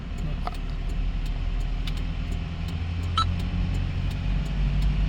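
Car engine droning inside a manual-transmission car accelerating through the gears on a road driving-test course, a steady low rumble with road noise and faint clicks, heard close from the cabin without talk.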